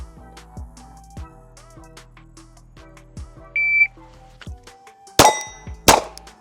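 Rounds strike a steel rectangle target at a shooting range, a few ringing metallic clangs among muffled pops and taps, with two loud sharp bursts near the end.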